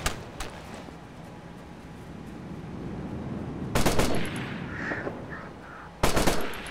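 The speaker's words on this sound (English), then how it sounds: "We're under fire!" Automatic machine gun fire in the military shooter Operation Flashpoint: Red River, with two loud rattling bursts standing out over a low battlefield background and a few faint distant shots earlier.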